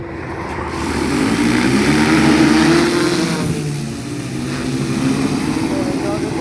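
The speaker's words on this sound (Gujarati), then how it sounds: "આ હેલિકોપ્ટર નથી મિત્રો આ છે ડ્રોન" An agricultural spraying drone's loud, steady buzzing whir swells and holds close by over a farm field, its rotor drone rising then easing slightly.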